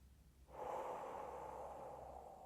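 A single long, steady exhale begins after a brief quiet moment and continues as a soft, airy rush close to the listener, with no talking.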